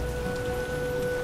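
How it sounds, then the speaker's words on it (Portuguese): Rain falls in the video game The Witcher, a steady even hiss of rainfall with a low rumbling bed and faint tonal game hum, constant throughout. "Essa chuva."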